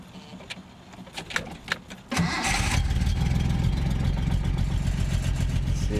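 A project car's engine with a little choke applied cranks a few times, then catches at about two seconds and keeps running loud and rough for the rest, alone without talk.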